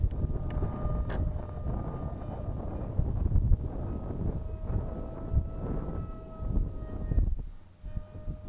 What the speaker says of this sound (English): the wind is sure makes it cold